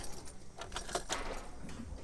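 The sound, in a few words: keys jangling as they are put in a truck ignition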